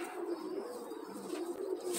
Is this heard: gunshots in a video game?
no